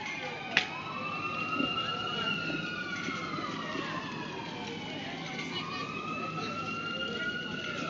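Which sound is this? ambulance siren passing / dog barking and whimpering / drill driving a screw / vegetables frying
ambulance siren passing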